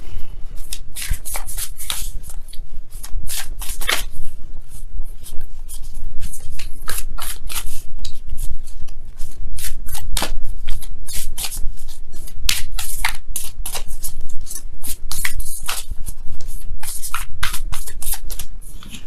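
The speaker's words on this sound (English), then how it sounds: "let me go ahead and really shuffle." Tarot cards are shuffled vigorously for a love reading, giving dense, rapid riffling and flicking clicks that run steadily and close for the whole stretch, with no talk.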